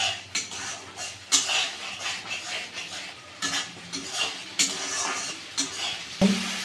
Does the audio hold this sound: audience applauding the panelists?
no